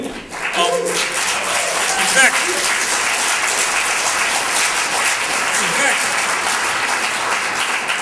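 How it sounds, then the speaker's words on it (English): A conference audience at a carbon-pricing Q&A breaks into sustained, loud, continuous applause that fills the room for several seconds, with a few voices and cheers rising over the dense clapping. "I'm glad you're all applauding"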